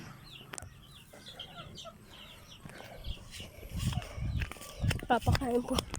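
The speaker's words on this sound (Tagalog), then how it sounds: "Pinapakain po mga manok, oh." Chickens cluck and chirp nearby as they are fed while people talk over them, the birds growing busier and louder toward the end.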